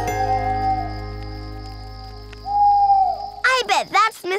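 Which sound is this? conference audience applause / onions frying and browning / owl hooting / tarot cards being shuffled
owl hooting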